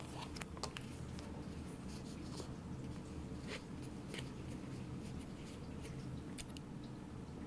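Scissors trim the fabric edge of a clutch wallet in a steady series of close, crisp snips and rustles, moderately quiet and without talk.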